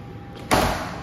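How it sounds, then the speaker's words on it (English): Bifold closet doors swing open in a rented apartment, giving one close, sudden wooden clatter and rustle that rings briefly, with a faint knock just before it. "open the bifold doors."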